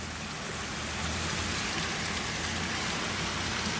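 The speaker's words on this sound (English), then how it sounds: "It's raining heavily and the wind." Heavy rain pours down steadily in a dense, continuous hiss, with a low gusting rumble of wind underneath, close and fairly loud throughout with no voices.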